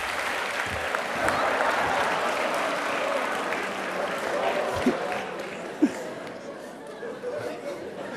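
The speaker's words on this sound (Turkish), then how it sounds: "Alkışlarla Sultan geliyor" A studio audience applauds as a guest walks on stage, sustained clapping mixed with scattered chuckles and crowd chatter, with a couple of sharp knocks toward the end.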